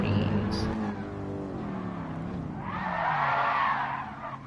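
Race car tyres skid and squeal in a racing video game, with engine drone throughout and a louder, broad screech swelling in the second half, heard without talk.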